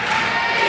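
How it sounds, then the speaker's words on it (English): A basketball crowd at a high school quarter-final roars in a brief, loud burst of cheering and shouting. "You can hear it. Their crowd is jacked up."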